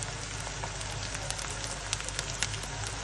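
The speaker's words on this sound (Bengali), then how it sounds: "এগুলোর সাথে আমি রসুন কুচিটা একটু ভালো করে ভেজে নিচ্ছি।" Chopped garlic frying with onions in a pan gives a steady, close sizzle with scattered crackles and pops throughout, and no one speaks.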